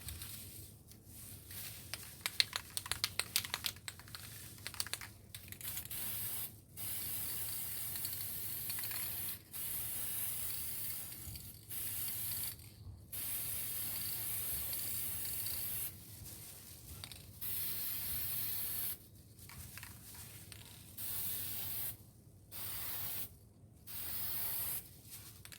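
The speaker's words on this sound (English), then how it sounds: "So I'm gonna go ahead and spray this." Krylon Color Master gloss black spray paint hissing from the can in repeated bursts of several seconds each, separated by brief pauses, close and steady.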